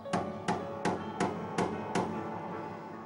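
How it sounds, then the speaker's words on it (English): Six evenly spaced metallic hammer strikes drive piano tuning pins into the pin block, each ringing briefly through the amplifying soundboard, loud and close with no talk. "that part of the pin goes into a pin block, and so that has to be hammered in"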